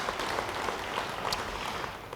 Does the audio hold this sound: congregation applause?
yes